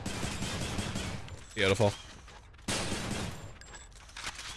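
Gunfire from the action game Hades: bursts of loud, rapid shots with reload clicks in between, under someone speaking in the foreground.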